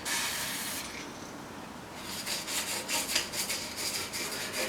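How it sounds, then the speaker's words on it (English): Bearing holes in a Suzuki Hayabusa motorcycle front wheel are rubbed clean of old hardened grease, starting with a long hiss and then settling into close, steady back-and-forth rubbing strokes. "let's clean up the holes that the new bearings got going first"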